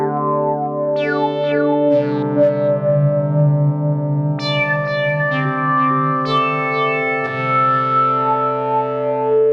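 Sustained distorted guitar chords ring out through a software tape echo from Arturia V-Collection 9, repeating echoes trailing behind each change, a warm, slightly wobbly delay filling the space.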